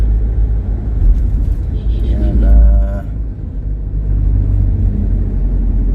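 A car drives along a road with a steady low rumble of engine and tyre noise, and a person briefly speaks over it partway through.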